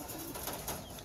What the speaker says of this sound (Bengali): তো কবুতর ছাইরা আপনাদেরকে একবার দেখাই